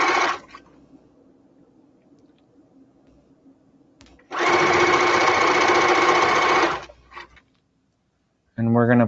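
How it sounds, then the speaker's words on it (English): A sewing machine zigzag-stitches a line between fabric layers to form an elastic casing, running in two loud, steady bursts with a quiet pause between, the second lasting about two seconds, followed by a brief voice at the end. "We're going to just stitch a line between the layers."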